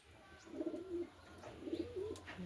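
Pigeons coo inside a pigeon house on a cold day, two soft, rolling coo phrases about a second apart, fairly faint against a low hum.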